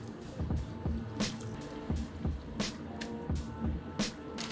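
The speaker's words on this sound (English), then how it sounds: "Today we're just gonna pour it directly into the mason jar." Water pours into a mason jar already filled with herbs, a gurgling, trickling fill with repeated soft splashes and drips in a quiet room, close and intermittent.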